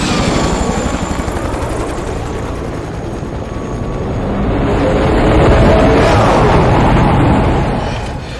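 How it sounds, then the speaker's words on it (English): Helicopter in flight in an action movie scene, a steady loud rotor and engine roar that swells toward the middle and eases off at the end, with no talk over it. "We need to set this chopper down"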